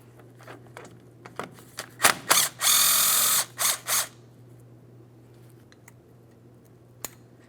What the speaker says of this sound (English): you're going to find that you have 5 T50 Torx bolts that need to be removed